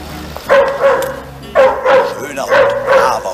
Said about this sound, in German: Schöner Hund, braver Hund.